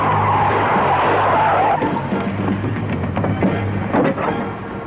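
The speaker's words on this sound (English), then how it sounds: "they do handbrake turns and so on" A car skidding through a handbrake-turn stunt, with a loud, sustained tire squeal over engine roar that carries on for several seconds and wavers toward the end.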